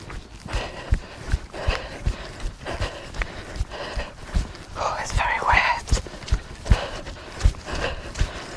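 Footsteps squelch and thud in a steady walking rhythm on saturated wet ground outdoors during an autumn morning in Broadway in the Cotswolds, close and moderately loud, with soft breathing and quiet voices in between.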